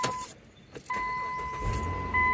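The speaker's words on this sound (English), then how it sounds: "And the vehicle started." A 2011-2017 Dodge Journey is started with a newly programmed key: a brief click and whir, then the engine catches and settles into a steady idle with a faint electronic tone over it, close and alone.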